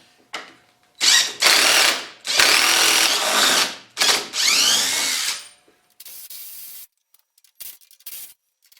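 A power tool backs bolts out of a wooden shipping crate holding a Highland Park shaping machine, giving several loud, close whirring bursts of a second or so each, then fainter, shorter spurts and pauses.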